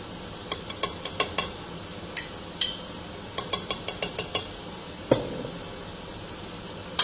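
Ginger and garlic paste sizzling in a cooking pan for chicken biryani, a low continuous hiss under a series of sharp ladle taps and scrapes against the pan, one heavier clunk near the end; no talking.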